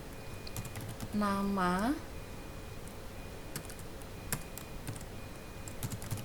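Steady clicking keystrokes on a computer keyboard while a QBasic print command is entered, close and moderately loud, with a brief spoken word partway through.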